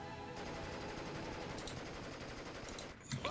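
Small-arms and machine-gun fire crackles through a WWII battle in Steel Division: Normandy 44, a steady rattling bed of shots with a few sharper cracks standing out near the end.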